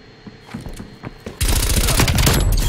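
Gunfire in Call of Duty Black Ops Cold War: scattered single shots, then a loud, sustained burst of rapid automatic fire, with no talk.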